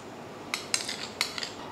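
A metal spoon clinks against a pot as ginger garlic paste goes into mutton with yogurt for pulao: a few sharp, bright taps spaced apart over quiet room tone, no talking.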